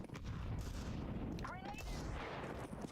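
A grenade goes off in Counter-Strike 2, a single sharp blast with a burst of broadband noise that dies away in under a second, heard over steady game ambience.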